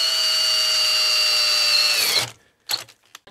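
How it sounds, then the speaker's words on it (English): A power drill bores into a lock with a broken key stuck inside, a loud steady high-pitched whine held close for about two seconds before stopping, followed by a brief clatter. "Try to drill nice and straight. Not too fast, you don't want to burn out your drill bit."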